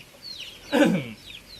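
Hens cluck in a short burst at close range, one louder squawking call rising in the middle over a faint background.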